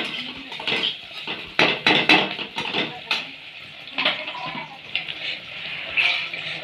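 Onion stirred in a pan over a low gas flame, with a series of sharp metallic scrapes and clinks of a spoon against the pan at an uneven pace, close and fairly loud.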